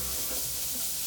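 Two finely chopped onions hit hot oil with asafoetida and ginger-garlic paste in a pan, giving one short, loud, continuous sizzling hiss up close, with no speech.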